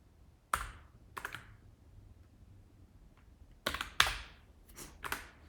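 Computer keyboard typing in a terminal session, heard as two short bursts of close, crisp keystrokes separated by a quiet pause, with no talking over them.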